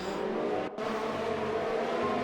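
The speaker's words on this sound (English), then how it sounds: "Yes, virtual cars driving on virtual tracks." Virtual race cars on a track in an Xbox One racing game, a loud, continuous engine drone with one brief dip as a car passes, heard alone with no talk.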